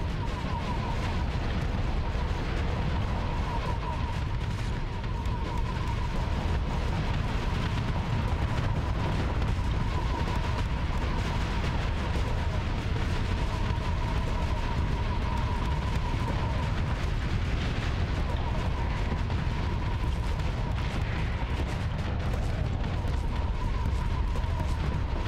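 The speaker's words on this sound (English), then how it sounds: "Missile after missile." Missiles launching and exploding in a Starsector space battle: a dense, continuous rumble of blasts and booms lasting the whole stretch, with a steady mid-pitched tone running through it.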